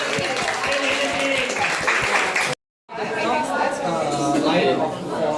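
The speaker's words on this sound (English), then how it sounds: "give them another round of applause" An audience applauding at a bioart workshop in Singapore, a sustained burst of clapping mixed with crowd chatter, cut briefly by a short silence before the clapping and voices resume.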